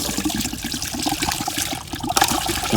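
Water splashing and trickling as it is poured out of a container holding shing catfish, a steady liquid gush that surges louder near the end.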